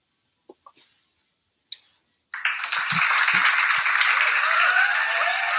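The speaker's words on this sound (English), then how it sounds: "And the crowd goes wild." After a few isolated clicks and taps, an audience at a spoken-word comedy show breaks into loud, sustained applause that carries on to the end, with a few low thumps near its start.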